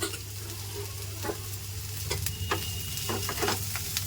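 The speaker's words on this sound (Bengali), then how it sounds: "গাজরটাকেও মশলার সঙ্গে হালকা কষিয়ে নিব" Carrots and capsicum sautéing with spices in a pan for a potato curry, a soft continuous sizzle with intermittent spatula scrapes and clicks, no voices.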